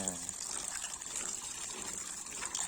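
Water splashing and running over freshly picked peanuts as soil is rinsed off outdoors, a steady close gush with a faint voice underneath.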